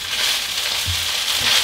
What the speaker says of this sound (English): the rice is toasting in the pan and frying